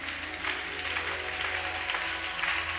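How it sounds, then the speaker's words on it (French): A church congregation applauds for the Lord with sustained, even clapping from a crowd, moderately loud and steady throughout. "Est-ce que tu peux acclamer pour le Seigneur?"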